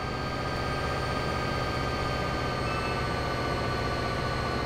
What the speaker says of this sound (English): Do I hear an incoming train?